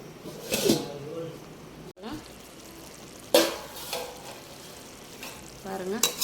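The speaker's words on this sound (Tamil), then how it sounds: "அப்படியே சிம்மில் வச்சு அப்படியே கிண்டி கிண்டி அப்பப்போ திறந்து பாருங்கள்." Prawn thokku sizzling in a pan on a low simmer while a spoon stirs it, with scraping strokes and bursts of frying noise at intervals, close up.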